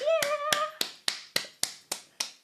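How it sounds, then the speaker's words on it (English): A group round of applause during a guided tapping and relaxation session: a run of about nine sharp, evenly spaced hand claps or slaps, close and fairly loud, each decaying quickly, with a faint voice tone at the start. "Big round of applause for us all."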